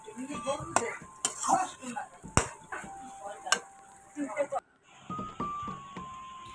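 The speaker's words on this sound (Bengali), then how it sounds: "আমি এদিকে পুঁই শাকটা আর একটু ভালো করে নেড়ে নেব।" Malabar spinach being stirred in a cooking pot on a home stove, with repeated sharp clinks and scrapes of a utensil against the pot, some loud and close, over a soft background hum and faint cooking noise.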